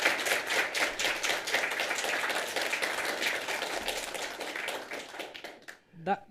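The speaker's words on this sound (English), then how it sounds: "let's clap for him" A group claps steadily for several seconds, a dense patter of applause that tapers off at the end.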